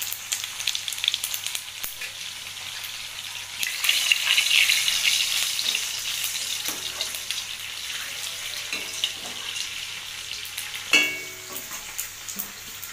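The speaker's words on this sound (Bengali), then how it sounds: "এই তেলের মধ্যে আমি গোটা জিরে দেবো" Whole cumin seeds sizzle in hot oil left over from frying tilapia fish, a steady hissing crackle that swells midway, with a sharp clatter near the end.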